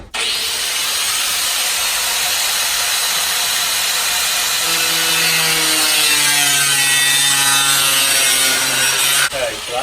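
Plastic storage bin top edge being cut with a power tool, a loud continuous buzzing whine that shifts pitch midway, close up, ending abruptly.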